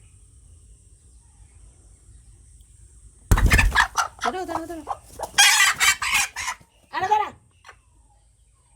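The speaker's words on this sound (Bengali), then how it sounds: "কালো মুরগি ডিম নিয়ে বসেছে" A black hen brooding on her eggs in a village goes from quiet to sudden loud agitated clucks and squawks, with some wing flapping, up close, while a person talks over her.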